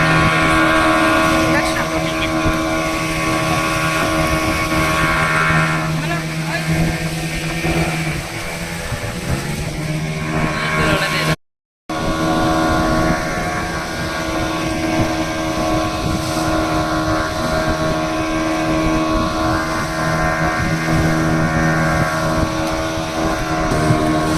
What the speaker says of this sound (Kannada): ಇವಾಗ ಬೋಟ್ ರೈಡ್ ಹೋಗ್ತಾ ಇದ್ದೀವಿ